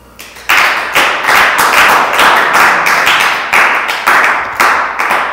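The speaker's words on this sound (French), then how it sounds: "Acclame très fort le Seigneur." Church congregation clapping in strong rhythmic unison at a French-speaking deliverance sermon, a run of loud, evenly spaced claps close by and repeating steadily for several seconds.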